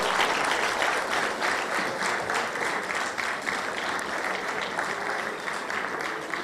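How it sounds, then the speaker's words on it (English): An audience at a business and vocational training event keeps up steady, sustained applause, a dense wash of many hands clapping close by without a break. "Please keep clapping as I go."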